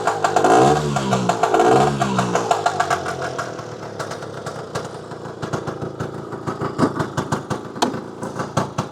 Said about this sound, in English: Very crisp motor.